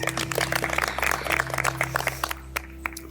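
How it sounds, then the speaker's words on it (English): An audience claps for a coach at a hiking group's graduation ceremony in Kilimambogo, a dense burst of applause that thins into scattered claps toward the end. "Let's clap for him twice."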